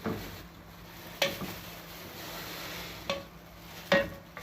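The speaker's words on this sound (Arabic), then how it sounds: "تعالوا نشوف انا عملت البصل بيتحمر" Onions fry in a pan with a low, soft sizzle, broken by a few light clinks of a utensil against the pan. It sounds close and quiet, with no talking.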